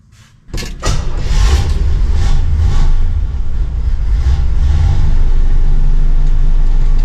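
A 1957 Chevy's engine turns over and settles into a loud, steady idle as it warms up, with a deep continuous rumble close by after a brief click at the start.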